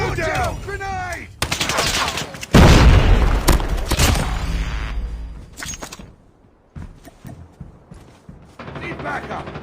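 Grenade blast and surrounding gunfire in Call of Duty Mobile ranked play, with a loud booming burst and rattling shots over several seconds alongside game voice callouts, then quieter scattered firing.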